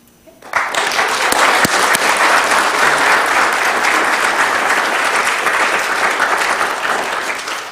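An audience at the Township of Wilmot inaugural council meeting breaks into applause for the new mayor as the chain of office is placed. The clapping starts suddenly and holds loud and steady, easing off slightly at the end.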